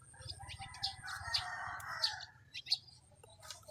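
Chickens in an Indonesian village call faintly in the early morning, with several short, sharp clucks and chirps spaced through the clip over a low background murmur.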